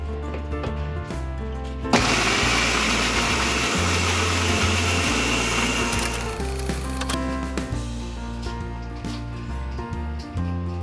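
A kitchen mixer grinding masala into a paste for Andhra-style country chicken curry bursts into a loud, dense whirring grind, holds for several seconds and winds down, with a low background hum before and after.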